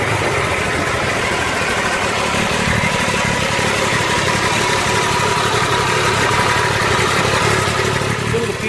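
A 2014 MV Agusta Brutale 675 motorcycle engine runs at a steady idle, a continuous close, loud mechanical drone with no revving across the whole stretch.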